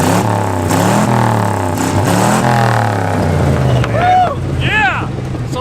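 An old tow truck engine, a cheap wrecker around 40 years old, revs up and falls back in loud swelling surges close by, with voices talking and whooping over it near the end.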